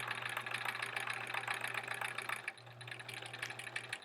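A sewing machine runs steadily while stitching a quilt-as-you-go sampler block, a continuous mechanical hum with rapid needle chatter that stops briefly partway through and then resumes to the end.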